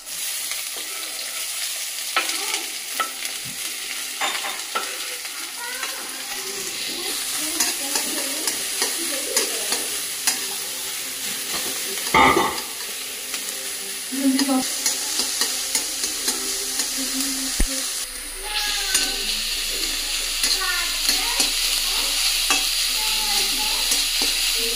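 Onions and green chillies for an aloo paratha filling sizzle and crackle steadily in hot oil in a pan, with stirring scrapes and occasional louder pops, close and continuous throughout.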